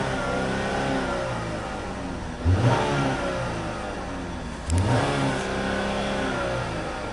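A 2017 GMC Terrain engine with just under 50,000 miles idles and is revved twice, each blip rising sharply then settling back to a steady idle, close and clear with no talk.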